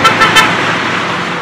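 A Toyota Innova drives along a road in Kerala, giving a loud, dense rush of engine and road noise. A few quick horn toots sound right at the start.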